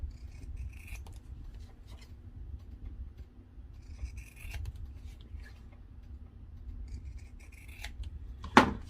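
Scissors cut carefully through a layered stencil bookmark, making a few faint, close snips and rasping slides over a low background hum, with a sharper snip near the end.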